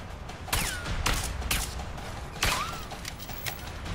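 Gunfire in the video game A Way Out, a series of loud sharp single shots spaced irregularly, some with ringing whistle-like ricochets, over a continuous rumbling background, with no talking.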